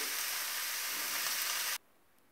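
Chopped squash and onion sizzle loudly in hot oil in a pan, a steady bright frying hiss that cuts off abruptly, leaving near silence.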